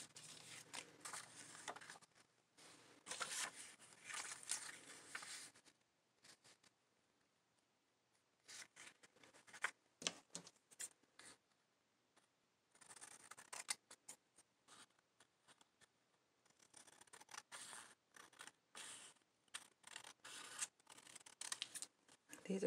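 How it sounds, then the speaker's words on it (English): Scissors cut out a paper pattern for a small pocket, with bursts of crisp snipping and paper rustling separated by quiet pauses, close and soft. "I will cut out, this is my pattern for my little pocket."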